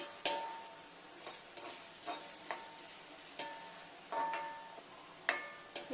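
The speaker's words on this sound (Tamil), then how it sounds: "பொன்னிறம் ஆகிற வரைக்கும் கொஞ்சம் வதக்குவோம்" Chilli chicken being sautéed in a pan until golden: a soft, steady sizzle broken by repeated sharp clinks and scrapes of a spatula on the pan, quiet and close, with no talking.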